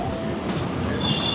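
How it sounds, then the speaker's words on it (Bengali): A children's ride train runs past in a zoo park, a steady close rumble of wheels with faint clatter and a brief thin squeal toward the end. "ওই যে পাশে দেখতে পাচ্ছেন ট্রেন"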